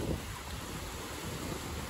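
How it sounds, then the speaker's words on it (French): Strong wind roaring outdoors beside Lake Champlain on a cool late-June day, a steady broadband buffeting that fills the microphone for the whole stretch, with possible faint water lapping underneath and no voices. "Très venteux."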